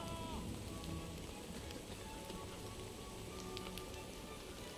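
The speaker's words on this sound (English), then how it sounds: "It's an evening battle in the rain." Steady rain hissing through an evening battle in the video game Empire: Total War, a continuous wash of patter with faint scattered clicks and distant battlefield noise underneath.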